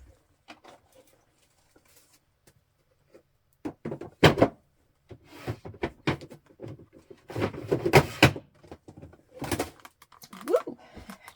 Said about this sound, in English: I just knocked a big box of lace over.